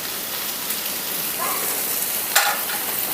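Mint and coriander leaves frying in oil make a dense, even sizzle close by, with a brief sharper crackle partway through and no talking.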